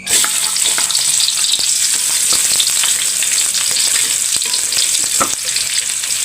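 Mustard greens (sawi) stir-frying in a hot pan with shallots, garlic, bird's eye chilies and red chilies, a steady close sizzle with scattered spatula scrapes and clicks throughout, no voices.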